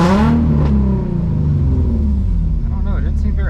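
A Nissan 350Z with an HR engine swap and a blown, clogged catalytic converter revs loudly from inside the car, its engine roar rising and falling across a few seconds.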